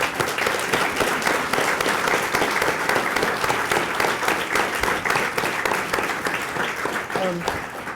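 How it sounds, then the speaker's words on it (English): Sustained applause from an audience at a discussion event with a former White House press secretary, steady dense clapping filling the whole stretch at close, even loudness. "So just give them a nice round of applause."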